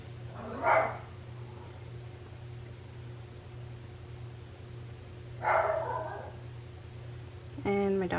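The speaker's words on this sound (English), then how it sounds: "Anything he hears outside, he goes crazy and starts barking." A small Toto-type house dog barks twice at sounds outside, each bark sharp and distant-sounding over a steady hum, the second followed by a brief whimper.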